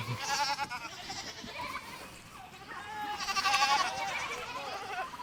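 Goats bleat on an Oklahoma farm, several wavering calls at moderate distance, one early and a louder cluster later, over quiet outdoor background.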